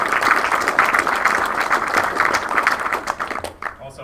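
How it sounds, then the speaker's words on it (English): Applause from the audience at a military change of command ceremony, steady dense clapping from a crowd indoors that fades slightly toward the end, loud and close. "how about a big round of applause for Major Callow and his team"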